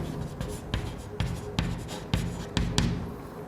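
Chalk or marker strokes on a classroom board during a Class 10 science lesson, a series of short scraping taps spaced irregularly, fairly close and alone without talk.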